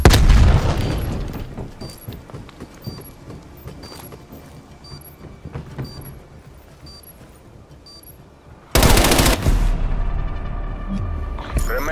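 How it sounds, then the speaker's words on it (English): A grenade goes off in Call of Duty Black Ops Cold War Search and Destroy, a sudden loud blast late in the clip after a stretch of scattered gunfire, clicks and quieter game noise. "Throwing grenade."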